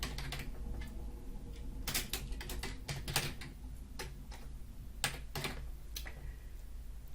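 Quiet, steady typing on a computer keyboard, a run of close key taps with brief pauses, no voices.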